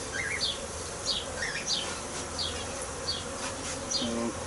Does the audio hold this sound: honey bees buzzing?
yes